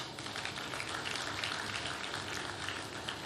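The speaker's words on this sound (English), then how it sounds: "Mr. President deserves a round of applause" An audience at an economic and investment summit applauds, a faint, distant wash of steady clapping that holds evenly throughout.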